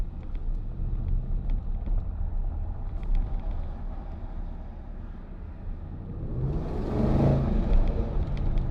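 A steady car engine rumbles, then revs up into a louder, rising roar near the end before easing back slightly.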